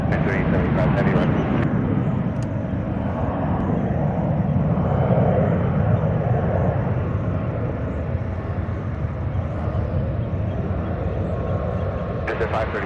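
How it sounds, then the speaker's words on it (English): A Japan Airlines Boeing 787 Dreamliner jet at San Francisco airport, a steady broad engine roar that stays loud throughout, with a voice talking over it. "Look at this, another Dreamliner, Japan Airlines, here on the ones."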